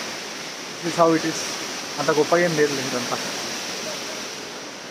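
A waterfall in Lachung, Sikkim, heard as a constant roaring wash of falling water, with someone talking briefly over it.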